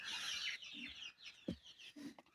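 Backyard chickens cluck in short, scattered bursts while being given deworming medicine, close and fairly quiet, with brief gaps and no talking.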